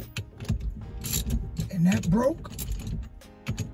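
Bolts are cranked down on a drilled stainless steel tube to break loose a stuck ignition cylinder on a 1979 Chrysler Cordoba, giving close ratcheting and metallic mechanical clicks, with a brief spoken word.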